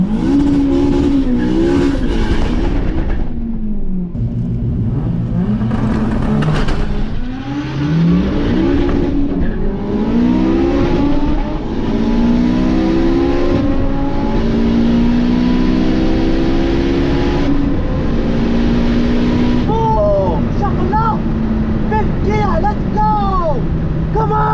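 A 500bhp Honda Civic FN2 launches and accelerates in a drag race against a 600bhp EK Civic, its engine loud and close as it climbs through rising gear pulls with shifts between them, while a voice talks over it.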